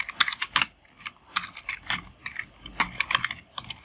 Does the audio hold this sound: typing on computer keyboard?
yes